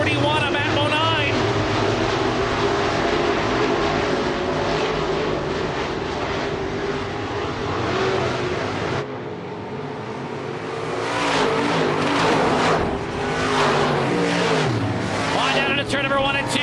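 IMCA race cars lapping Southern Raceway in Milton, Florida during the Clash on the Coast, engines roaring steadily with a passing surge near the middle, under continuous excited commentary.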